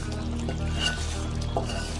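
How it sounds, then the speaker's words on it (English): Water mixture poured over egg curry in a pan, a soft continuous liquid wash with faint sloshing, steady and close, without talk. "pour the water mixture on the top of the egg."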